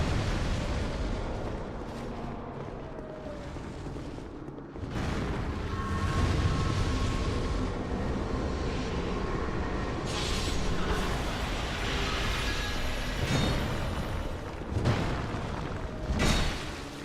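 A pyromancer's fire spell in a video game bursts out in roaring, explosive whooshes, with several heavy booms and crackling surges rising over a rumbling game soundscape.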